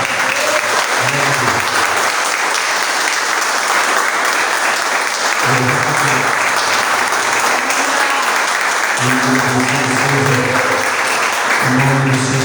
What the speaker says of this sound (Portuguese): você pode aplaudir bem mais forte.